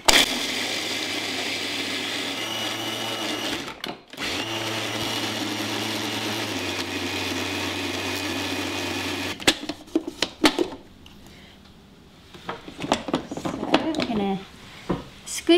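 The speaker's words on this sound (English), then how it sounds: "So I'm going to grind it up, make it into a paste." Garlic and salt ground into a paste in a kitchen appliance, which gives a steady loud whirring motor drone with a brief pause, then stops and leaves clattering handling sounds.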